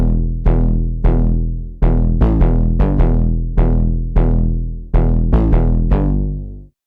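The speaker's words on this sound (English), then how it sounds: "And that gives us this really interesting textured 808 sound." A customized, textured 808 bass patch built from The Prince presets by Cradleapps plays a simple note pattern alone, with about a dozen deep, booming notes that each start hard and decay, some of them gliding.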